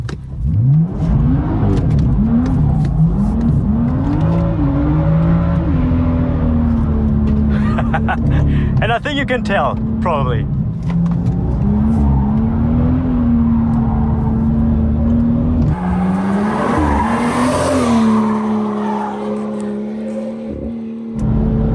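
A BMW M2 F87 engine revs hard while drifting, its note climbing and holding at high revs, with tyre noise and bursts of roar. Someone talks briefly over it.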